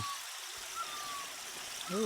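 Faint water gurgles and trickles from a mountain spring as a low continuous flow, with a voice starting up briefly at the very end.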